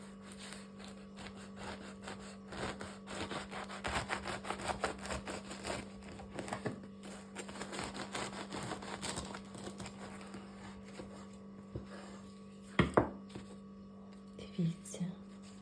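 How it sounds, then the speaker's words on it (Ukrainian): A knife saws through a loaf of homemade bread with a crisp crust, giving steady rhythmic rasping strokes for about ten seconds over a low mains hum, then a few sharper knocks and rustles. "Зараз ми одну хлібинку з вами розріжемо і подивимося, який він у нас всередині вийшов."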